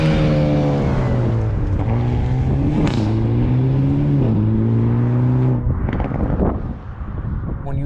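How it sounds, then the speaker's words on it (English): The exhaust of a 2022 Hyundai Elantra N burbles steadily with deep rumbling tones that rise and fall in pitch, then crackles and pops briefly near the end. "a different setting for the burbly exhaust"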